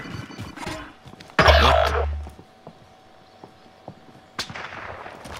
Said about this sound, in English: They're getting sniped from the hill.